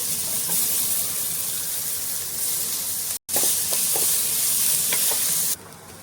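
Chopped onions frying in oil left from frying fish, with black cumin in the pan: a loud, dense, continuous sizzle with faint stirring knocks, briefly cut off once and then resuming.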